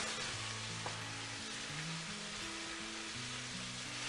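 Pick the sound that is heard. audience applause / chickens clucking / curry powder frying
curry powder frying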